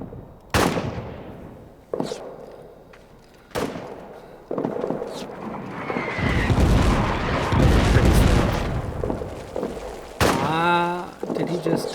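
Covering gunfire in the trench-warfare strategy game All Quiet in the Trenches: sharp, loud shots crack out at irregular intervals, then swell into a dense, rumbling barrage of sustained fire with a closing burst.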